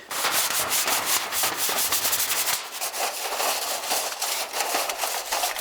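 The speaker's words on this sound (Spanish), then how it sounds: "tengo que limpiar la chimenea porque la última vez no la limpié y está llena de carbonilla" Continuous rough scraping and rubbing against a soot-filled wood stove chimney pipe inside a tent during winter camping, close and steady, with rhythmic strokes and no speech.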